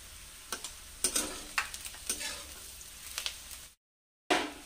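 Onions frying in a pan with Kashmiri chili powder, a soft sizzle punctuated by repeated spatula scrapes and stirring knocks, close and fairly quiet, broken by a brief complete silence near the end before the sizzle returns.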